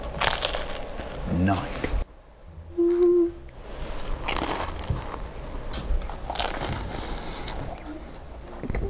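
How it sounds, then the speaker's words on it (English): A crunchy deep-fried egg roll with a vegetable filling is bitten close up, giving a few short, crisp crackling crunches, with a voice speaking briefly around them. "And you can just hear the crunch."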